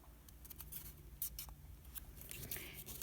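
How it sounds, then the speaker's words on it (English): Sheets of craft paper are folded for a handmade garland, making light crisp rustles and creases in quick irregular bursts, close and fairly quiet. "so we'll just fold 3 of these"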